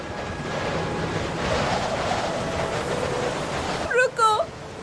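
Wind blows steadily outdoors with a rushing, gusty roar that swells and eases, then cuts off near the end as a few short bright tones sound.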